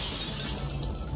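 Glass shattering in the farming game My Time at Sandrock: a sharp breaking crash with a bright, scattered tail, fairly quiet and heard alone.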